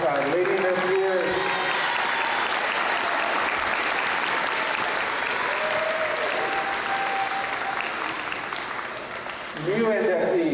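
Sustained applause from an audience at a National Junior Honor Society ceremony, steady dense clapping that fills the whole stretch, dipping briefly near the end before swelling again, with a few voices and cheers mixed in.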